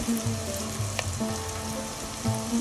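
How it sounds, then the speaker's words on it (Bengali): Spice paste with ginger-garlic frying in a pan for mutton bhuna, a steady close sizzle with faint stirring scrapes, no voices. "এখন আমি ভালো করে পেস্টটা ভেজে নিব যাতে কাঁচা গন্ধ না আসে"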